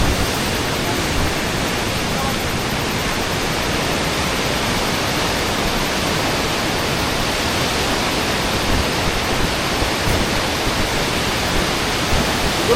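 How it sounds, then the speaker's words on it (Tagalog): Huka Falls near Taupo, New Zealand, a powerful waterfall: a dense, steady roar of rushing water, loud and continuous with no change throughout. "Waka waka falls."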